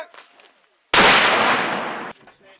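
An army mortar round fired at charge two during the 2022 U.S. Army Europe and Africa Best Squad Competition: one sudden, loud, close blast that roars for about a second before cutting off, with faint voices before and after.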